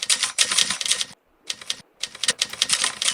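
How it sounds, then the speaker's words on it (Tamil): Typewriter typing sound effect: rapid, close clattering keystrokes in a dense first burst, a short silent pause, then more brisk bursts of keys, with no voices. "இது இன்னும் ரியலிஸ்டிக்காக கொண்டு வர்றதுக்கு ஒரு டைப்ரைட்டிங் சவுண்ட் எஃபெக்டை நான் அப்ளை பண்ணியிருக்கேன்."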